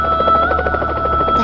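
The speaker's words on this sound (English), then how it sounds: "The helicopter's roar brings a lifeline through the storm." A helicopter roars through a blizzard, its rotor throbbing in rapid, even pulses with a steady engine whine, close and loud for a brief moment with no talk.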